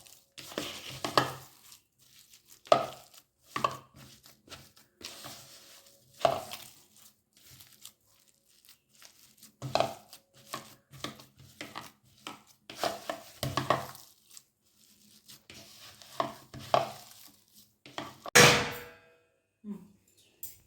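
Mashed potato for vegetarian chops worked together with fried spices by hand, giving soft squelching and pressing sounds broken by occasional sharp clinks of a utensil against the bowl, close and fairly quiet.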